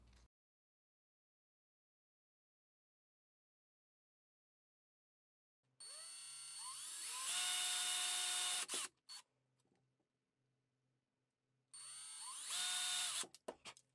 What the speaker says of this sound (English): mark and drill the holes for the new wire